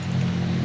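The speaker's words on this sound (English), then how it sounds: "Sorry for the traffic noise." Steady low rumble of passing road traffic near an outdoor shooting range, a continuous engine drone without breaks or talk.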